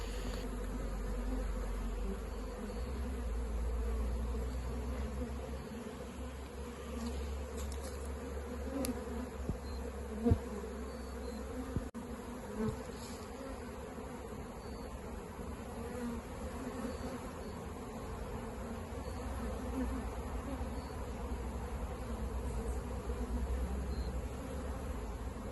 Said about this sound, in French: en essayant de conserver un maximum d'abeilles que je vais secouer au-dessus de la ruche